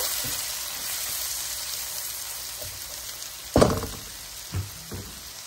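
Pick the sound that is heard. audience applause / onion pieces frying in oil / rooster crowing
onion pieces frying in oil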